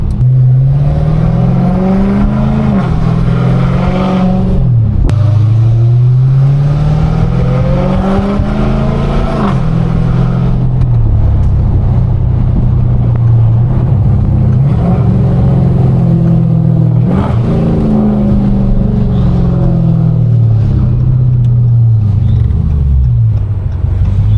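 Dodge Hellcat accelerating hard on a city street with its tires breaking traction, a loud close engine roar rising and falling through repeated revs and gear pulls for the whole stretch.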